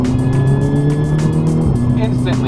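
Engine of a VW MK6 GTI fitted with a CTS Turbo intake, revving hard under acceleration with a steady loud drone and rising intake roar, close and continuous throughout.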